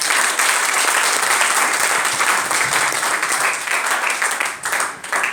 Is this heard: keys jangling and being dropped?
no